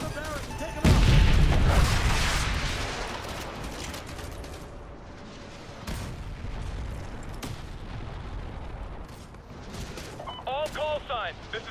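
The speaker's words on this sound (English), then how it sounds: "Get on the Barrett and take them out." In the Modern Warfare video game, a Barrett rifle fires during a battle: a heavy, loud boom followed by rolling gunfire and explosions with debris clatter, while radio voices talk throughout.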